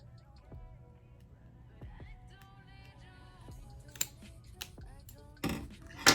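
Scissors snip through the lace of a frontal wig in a few sharp, close cuts, with a louder burst of snipping near the end and occasional soft voices in the background.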